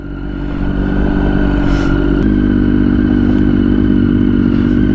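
A motorcycle engine idles high at around 2,000 rpm with a loud, steady mechanical rumble and clatter, running continuously up close with no talking.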